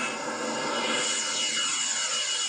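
A model jet aircraft's turbine engine with a combustion chamber producing 6 kg of thrust, running with a steady loud roaring whine and a high hiss, the pitch sweeping slowly as it holds throttle, no talking.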